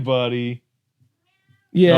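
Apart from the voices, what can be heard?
cat meowing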